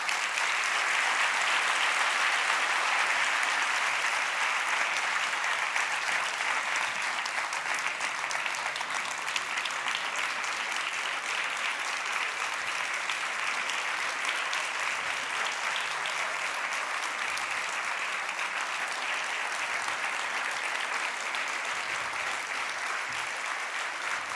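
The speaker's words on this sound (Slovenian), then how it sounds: "kar bomo zdajle dokazali in pokazali še z enim aplavzom, prosim lepo" Sustained applause from a large audience at the closing ceremony of the POPRI 2026 event, dense and steady throughout without a break.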